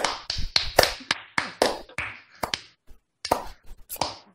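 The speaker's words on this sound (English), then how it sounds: "Let's do some clapping." A handful of sharp, separate hand claps in an uneven rhythm, close and crisp with short gaps between them and no talking.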